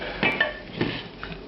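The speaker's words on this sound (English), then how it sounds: "you're going to put the meat in a sieve like this to drain the fat off" Cooked lamb mince tipped into a metal sieve, with several light clinks and scrapes of utensils against metal and a soft wet rustle, close and moderately loud.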